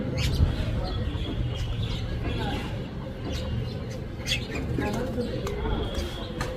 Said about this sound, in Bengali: ডাহুক পাখি ডাকছে